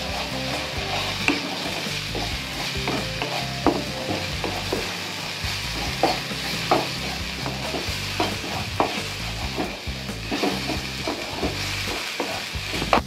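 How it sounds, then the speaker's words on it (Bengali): Pomfret fish curry masala with Kashmiri red chilli powder, turmeric and salt being stir-fried in a pan: a continuous close sizzle broken by regular spoon scrapes and knocks, with no voices. "ভালো করে আমরা এই মশলাগুলিকে আমাদের এই কষানোর সাথে মিশিয়ে কষিয়ে নেব"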